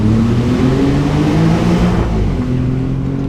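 Alfa Romeo Giulia Quadrifoglio engine revving loudly through a tunnel, a rich, echoing roar that builds and then settles slightly, with no voices over it.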